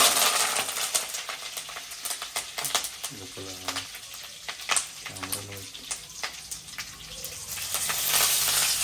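Mustard seeds and cumin spit and crackle in hot oil for a saagu tempering, a dense sizzle scattered with sharp popping ticks and a few clinks throughout, close and loud, with no one talking.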